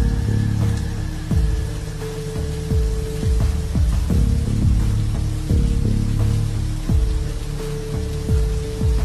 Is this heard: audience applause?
no